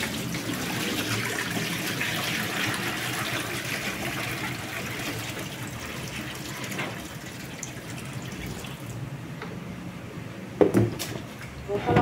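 Water poured off soaking cut eggplant in salted water into a basin, a steady splashing pour running for most of the span, then tapering into a few louder sloshes and drips near the end.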